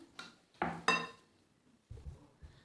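Pizza paratha dough being mixed in a bowl, with a few clinks and scrapes of utensil against the bowl followed by soft thuds, quiet and close with pauses between.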